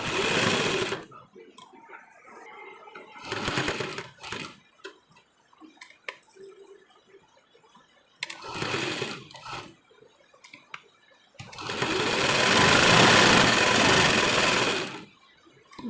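A sewing machine stitches a fold on a blouse in several separate runs, with a short burst, two brief runs and a long loud run near the end, and quiet handling between them.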